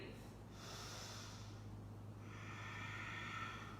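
A long, audible breath out during a yoga pose, soft airy exhalation sustained for several seconds, close and alone with no talk.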